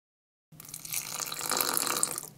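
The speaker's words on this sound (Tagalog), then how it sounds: "Nagbuhos lang ako ng konting tubig dito." Water pours steadily into a container of longganisa batter, a continuous hissing splash starting abruptly after a moment of silence and building slightly.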